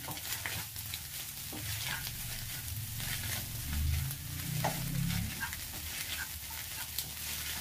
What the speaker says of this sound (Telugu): చల్లుకున్న తర్వాత ఇలా మిక్స్ చేసుకుందాం.